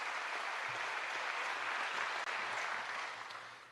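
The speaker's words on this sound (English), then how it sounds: "Let's give them all a big round of applause also for being here." A seated audience at a hearing gives a long, steady round of applause for a group of Scouts, dense and fairly loud before tapering off slightly at the end.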